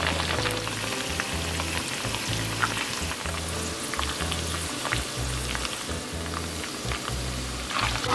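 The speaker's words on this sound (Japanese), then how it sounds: "こんな感じでね沸き立ってきますので、ニンニクがねうっすら色づき、こちらの生ハムがねカリッとなるまで弱火でじっくりね煮ていきます" Garlic and prosciutto simmer over low heat in oil for ajillo, giving a steady, close bubbling sizzle with dense crackle and pops throughout, no voices.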